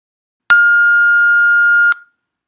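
A single loud electronic test beep, a pure steady tone that holds for about one and a half seconds and then stops abruptly.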